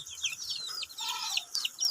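A white chicken clucks in a quick series of high, close calls, broken by short gaps across a couple of seconds, with no talk over it.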